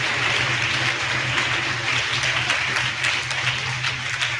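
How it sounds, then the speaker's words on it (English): A church congregation at Sunday Mass claps continuously and evenly, a fairly loud sustained patter of many hands over a low steady hum. "Can you clap for her?"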